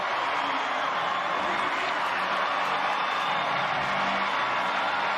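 A rugby crowd at a Fijian Drua versus Crusaders match roars after a try, a continuous, fairly distant wash of cheering and noise that stays level throughout.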